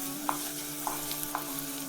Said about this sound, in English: So the next thing that I'll be going in will be my beef. So you just want to fry this until it's translucent.